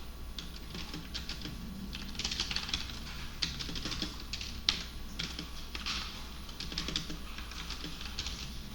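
Fingers typing code comments on a computer keyboard, a steady run of quick, light key clicks close by, coming in short bursts with brief pauses between them.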